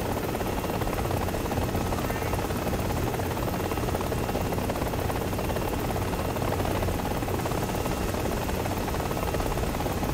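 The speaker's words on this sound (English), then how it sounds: "I'm gonna be tilting my helicopter so far forward" A helicopter in the Gazelle VR combat game gives a steady, close whirring drone with a continuous rotor buzz, holding at an even level throughout with no talking.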